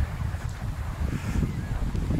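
Steady wind buffets and rumbles against the microphone, a low gusty roar throughout with no voices.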